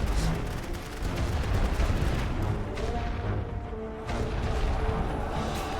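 Light artillery fire in a World War One Western Front strategy game: a dense, continuous barrage of booms and gunfire rumbling together, loud and unbroken, with no speech over it.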